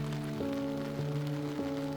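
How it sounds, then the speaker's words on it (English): Steady rain falls on the town of Shuzenji, Japan, a constant even hiss across the whole stretch with low sustained tones humming underneath. "it was still raining, and it didn't really look like it was going to stop anytime soon"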